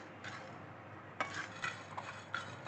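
Cumin and coriander seeds are roasted in a pan and stirred, giving soft, faint scraping and a few light metallic clinks over quiet background noise.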